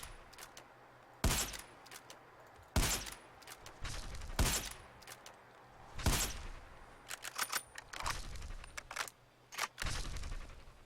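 A CS-LR4 sniper rifle mod firing in Fallout 4, with several sharp, loud single shots spaced a second or two apart, each followed by brief mechanical bolt and reload clatter, no talking.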